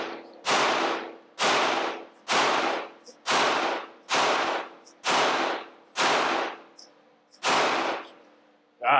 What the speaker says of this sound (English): So, rapid fire, an entire magazine.